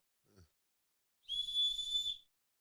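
Safety whistle blown once in a short, shrill, piercing blast lasting under a second, clear and close, after a faint brief handling sound.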